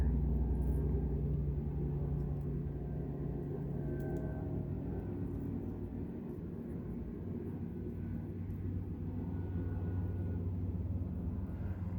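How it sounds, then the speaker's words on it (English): A low, droning helicopter rumble passes overhead, lingering steadily, fairly faint and distant, holding a constant engine hum before easing slightly midway. "Here comes a helicopter."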